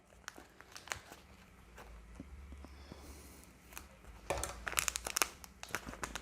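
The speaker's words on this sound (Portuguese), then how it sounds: "vou cortar um pouquinho mais a minha manga" A plastic piping bag is cut and handled, producing close, faint crinkling and rustling with scattered snips and taps, getting busier near the end.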